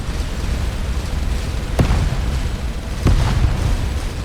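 Two sharp cannon blasts in the space game Starcom: Unknown Space crack out over a dense, steady rumble of combat noise, spaced roughly a second apart.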